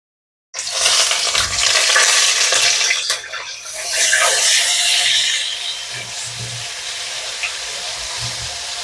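Ground masala drops into hot oil for a jackfruit curry with a sudden loud hiss, then fries with a steady, close sizzle. Occasional soft stirring scrapes run beneath it.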